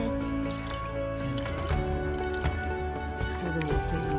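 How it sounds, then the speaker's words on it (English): Water dripping from a plastic bottle used for cheap drip irrigation, with scattered small drips and liquid trickles over a steady background. "So the water is now starting to drip out"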